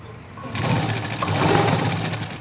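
A sewing machine stitches the front part of a blouse, its steady close whirring starting after a brief quiet moment and running continuously to the end.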